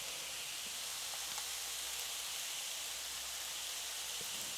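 Garlic paste sizzles steadily in a hot pan while a Bolognese sauce is being made, a constant, fairly quiet hiss with no voices and only the odd faint tick.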